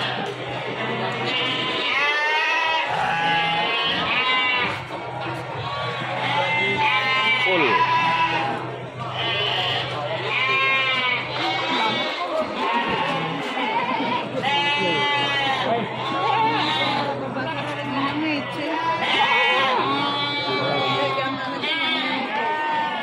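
Goats at the Wonolelo livestock market in Wonosobo bleat repeatedly and overlap one another, loud and close, while people talk and chatter in the background throughout.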